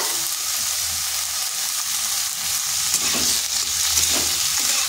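Leafy greens tossed in with boiled potatoes, stirred and frying in a pan, producing a steady close sizzle with occasional scraping stirs and no talking.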